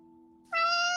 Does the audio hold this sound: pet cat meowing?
yes